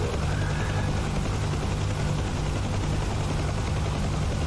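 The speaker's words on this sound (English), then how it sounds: "enjoy the sights and sounds of the Huey and this helicopter" Huey helicopter in a VR flight simulator game, a loud constant rotor thrum and engine roar with a rhythmic low chop, filling the whole stretch with no talk.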